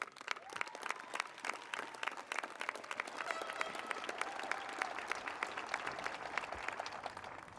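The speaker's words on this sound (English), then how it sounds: "You all deserve a special round of applause tonight for getting to this point." An audience applauds at a 2021 Pocono Mountain East High School graduation ceremony, starting with scattered claps that build into sustained, dense clapping from a large crowd across the whole stretch.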